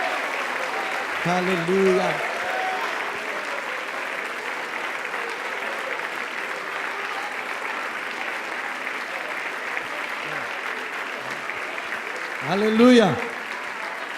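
A church congregation applauding at a worship service, a sustained, dense wash of clapping that carries on steadily, with a man briefly calling out over it near the start and again near the end.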